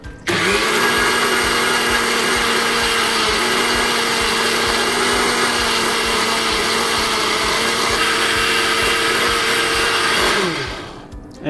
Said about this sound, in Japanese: こちらをミキサーで回していきましょう。